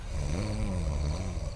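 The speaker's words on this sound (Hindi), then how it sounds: "देख, चौकीदार अंकल क्या मस्त खराटे मार रहे हैं" A sleeping watchman snores in a single drawn-out, rumbling breath that rises and then slowly falls, close and moderately loud, with no talk over it.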